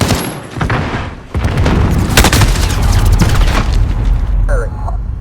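A fire-breathing shotgun blasts in a video game, making loud, sustained booming roars that keep the sound dense for several seconds, with game voices calling out over it.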